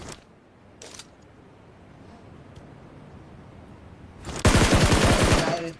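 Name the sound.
gunfire spray from BGMI video game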